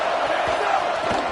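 A stadium crowd at a football game roars in a steady, loud wash of cheering that holds for the whole moment, with no single voice standing out.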